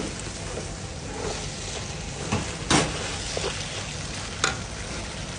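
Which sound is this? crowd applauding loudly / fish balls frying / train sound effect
fish balls frying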